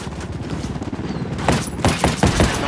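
Gunfire in Ghost Recon Wildlands starts as a softer patter, then a rapid series of sharp, loud shots cracks close by in the second half.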